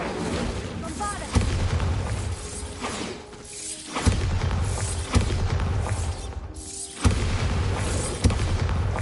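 Bombarda spell blasts go off in a magic video game as repeated booming explosions roughly every one to three seconds, heard over continuous game noise and effects.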